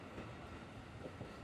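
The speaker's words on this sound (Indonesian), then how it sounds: "ini Parahyangannya masuk di jalur 3" An evening Parahyangan passenger train pulls into track 3 at a station, a steady, faint, broadband rolling rumble with no voices.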